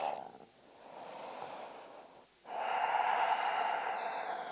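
Deep breathing during a yoga session: a slow inhale, a short pause, then a fuller, louder breath that carries on steadily, close and alone.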